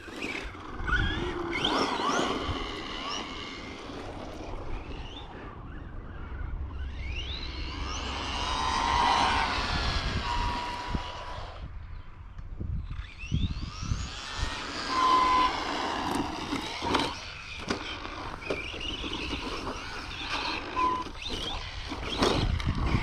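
Arrma Vorteks 3S BLX RC car driving on grass at a football field: a high electric motor whine that rises and falls in two long runs, with rough scrabbling and bumps between them.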